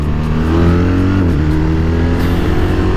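A 2025 BMW 1300 RT Triple Black motorcycle accelerates hard, its loud, close engine note climbing in pitch, dipping briefly at a gear change, then rising again.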